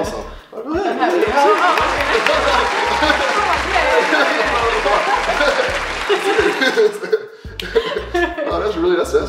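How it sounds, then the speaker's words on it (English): A round of applause from a small group, dense clapping mixed with chuckles and chatter, voices talking over it until it thins out and then briefly picks up again. "Go ahead and give yourself a round of applause."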